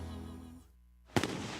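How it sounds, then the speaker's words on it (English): A single sharp, loud firework explosion at a fireworks show cracks out after a brief near-silence, following a fading low rumble, its broadband burst ringing on for a moment. "Holy smokes, this is the coolest fireworks show you've done."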